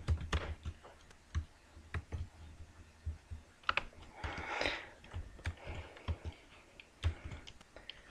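Keys on a computer keyboard tap in an irregular, steady patter at close range, quiet and unhurried, with a brief softer rustle midway.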